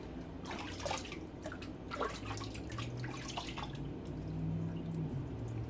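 Water splashing and dripping while shaving soap is rinsed off at a sink, steady and fairly faint with scattered drips and light trickling, no talk.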